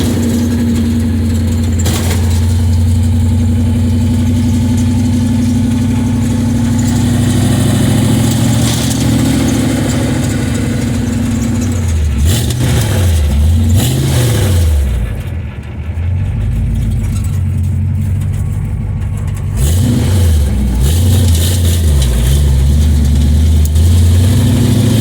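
A 1929 Ford Model A hot rod with a big-block engine drives along in second gear with a four-speed. The engine note is loud, close and continuous, with throttle swells and a few revving surges as it cruises.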